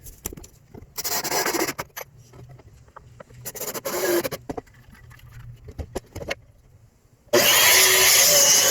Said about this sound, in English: use my circular saw to rip it in half